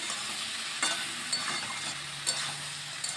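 Flat beans (shim) frying in a pan with chilli give a steady, quiet sizzle, broken by a few light spatula scrapes and taps as the vegetable is stirred.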